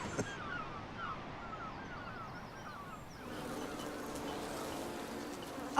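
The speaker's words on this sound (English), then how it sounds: "I'll see to the bees." Beekeeping bees buzzing steadily and continuously in a loud, droning swarm, with the hum rising and thickening about halfway through.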